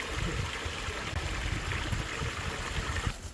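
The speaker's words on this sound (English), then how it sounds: "It's got water running out of it." Water pours steadily out of an old mine pipe into a creek, making a continuous close rushing and trickling sound with no pauses.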